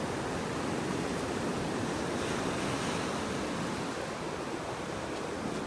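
Ocean waves washing in and out on a beach in North Naples, Florida, a steady broadband surf roar with slight wind, continuous and unbroken, with no voices.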